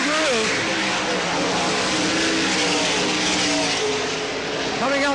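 Sprint race cars roaring around the oval at Selinsgrove Speedway during the 1988 National Open, loud engines rising and falling as they pass, with an announcer talking over the din.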